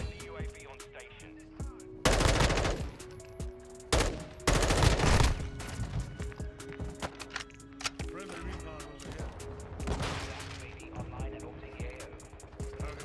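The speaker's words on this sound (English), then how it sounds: "I'm taking fire." Gunfire in Call of Duty Modern Warfare 2 is heard in loud rapid bursts of automatic shots, with heavy volleys near the start and sporadic shots later, while players talk over it.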